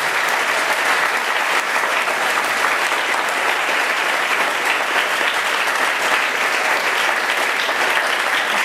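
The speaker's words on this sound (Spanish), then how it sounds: "Le damos un aplauso a esta palabra." A church congregation applauds together in a steady, dense burst of clapping that fills the room at even loudness throughout, with no voices rising above it.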